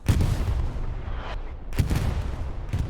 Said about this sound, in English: Grandma's house is also under attack with the artillery